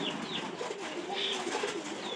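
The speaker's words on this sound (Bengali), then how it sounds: "কবুতরগুলো গোসল করে" Pigeons coo softly in a low, repeated murmur over a steady background hiss, kept where the birds are bathed, with a few higher chirps scattered through and no talking.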